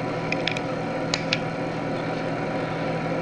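A Hohner Liliput electromechanical keyboard workstation is switched on and gives off a steady mechanical hum with a few small clicks and ticks near the start, close and continuous, with no talk.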